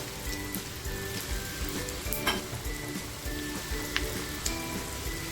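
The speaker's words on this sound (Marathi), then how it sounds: "तेल छान तापलं ना की लसूण टाकायची आहे थोडंसं हिंग" Garlic and a pinch of asafoetida are dropped into hot oil for a cluster beans dish. They sizzle with a steady crackle and scattered pops, fairly quiet and close, with no talk.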